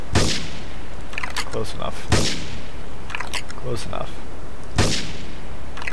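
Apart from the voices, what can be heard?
gunfire in video game GTA III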